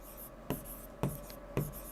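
Chalk or marker writing on a board during a classroom lesson, three short distinct taps and scratches spaced about half a second apart, quiet and close, with no talk.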